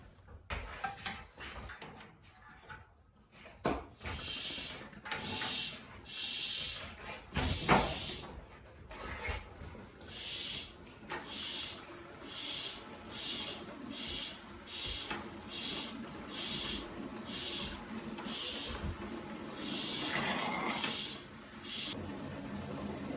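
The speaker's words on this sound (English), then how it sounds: "I have a little vacuum pump, suck all that out." A small Mighty Vac hand vacuum pump sucks oil out of an engine, chugging in a steady rhythm of repeated pulses with a wet sucking quality, starting after a few quiet moments and continuing throughout.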